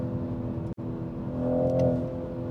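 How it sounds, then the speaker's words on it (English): Engine of a 2023 Toyota Supra sounds steady and loud throughout, swelling briefly as the revs rise, with a sharp momentary cutout near the start; no one talks. "It doesn't let you rev up the limiter, look"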